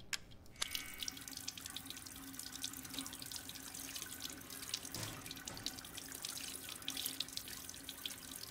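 A video game tap sends water running steadily into a sink, a continuous splashing hiss with small drips, fairly quiet and heard alone after a brief opening click.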